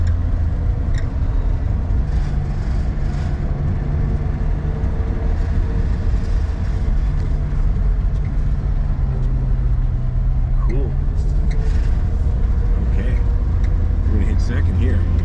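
The engine of a 1960 Chrysler Savoy runs as a loud, steady, rumbling drone heard from inside the car. Its pitch shifts slightly now and then, and a voice talks over parts of it.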